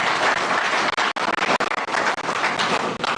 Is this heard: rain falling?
no